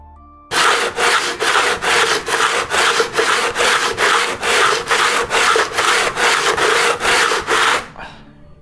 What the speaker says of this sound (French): Je dégrossis mon profil à la scie japonaise avant d'affiner au rabot et à la râpe.